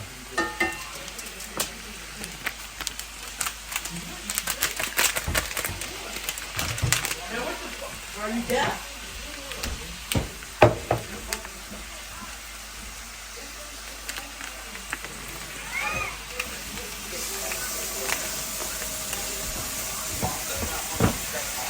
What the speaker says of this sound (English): he's browning the meat